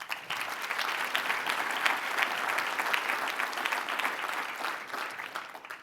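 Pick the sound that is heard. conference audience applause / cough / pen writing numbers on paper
conference audience applause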